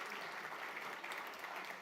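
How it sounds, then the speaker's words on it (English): Steady crowd applause for committee members at a school golf classic and summer party, a dense even wash of clapping holding at constant loudness throughout, with no voices over it. "Please, a round of applause for all of them."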